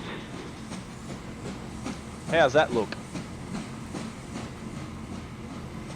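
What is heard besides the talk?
train running in video game Transport Fever 2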